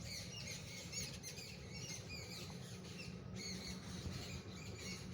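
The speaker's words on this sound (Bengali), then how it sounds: "পাখির কিচিমিচি ডাক।" Birds chirping in the morning, with dense overlapping high twitters and squawks continuing throughout at a faint, distant level.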